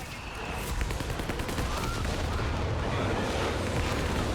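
A Nebelwerfer rocket barrage in Company of Heroes 3 fires off as a dense, continuous run of launches and blasts with no letup, and a faint voice speaks underneath.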